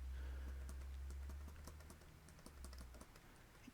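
Quick, uneven typing on a small computer keyboard, with light key clicks tapping steadily over a low background hum and no talk.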